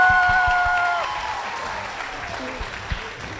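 An audience at an agribusiness prize competition final applauds, the clapping fading gradually as a few cheers and sustained tones ring out over it before scattered claps trail off.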